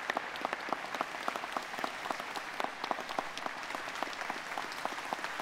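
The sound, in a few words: applause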